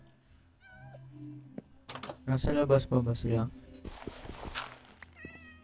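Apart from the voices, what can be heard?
cat meowing in Minecraft video game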